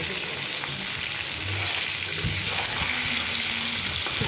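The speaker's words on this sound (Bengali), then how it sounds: "মাছটা কিন্তু আমি আগে থেকে ভাজিনি, এই মশলার সঙ্গে একটু ভেজে নেব" Hilsa fish pieces coated in salt, turmeric and oil frying with spice paste in a pan, a dense steady sizzling hiss close by with faint scrapes and small knocks, no voices.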